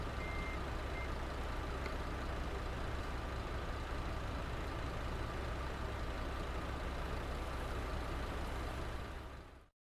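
A Scania truck in Euro Truck Simulator 2 drones with a steady, loud engine and faint repeated beeps over it. No voices are heard, and the sound cuts off abruptly at the end.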